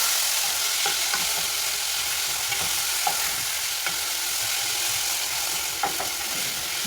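Tomatoes frying with well-done onions and spices in a pan, a steady even sizzle with a few faint scrapes and clicks of stirring throughout, fairly quiet and continuous.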